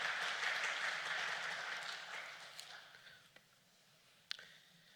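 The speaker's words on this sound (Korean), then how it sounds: "우리 격려의 의미로 우리 잠깐 우리 격려 박수 부탁드리겠습니다" Church congregation giving an encouraging round of applause after a worship song, dense clapping that starts full and gradually fades away, ending in a few isolated claps.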